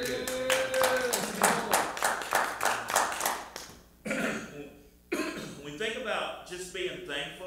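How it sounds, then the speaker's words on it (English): A church congregation at a Wednesday service claps their hands in a quick run of crisp, evenly spaced claps that then breaks off. Voices and some throaty noises sound over and between the claps. "God deserves a hand clap."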